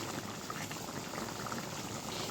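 Chicken meat boiling in a pot, a steady dense bubbling and rolling hiss that stays close and even throughout, with no voices.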